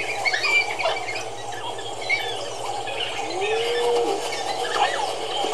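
High, bird-like chirps and squeaky calls from wild dogs coordinating a hunt, scattered over a steady low hum, moderately loud, with a brief rising-falling whine partway through.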